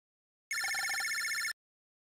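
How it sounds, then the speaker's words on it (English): Phone ringing in the video game Mega Man Battle Network 2: a single one-second burst of rapid electronic trilling beeps, clean and bright, with silence before and after. "Uh-oh, phone call."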